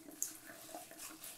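Tap water running at a sink while hands are washed with bar soap: a soft, faint splashing trickle with a few small spatters, and no one speaking.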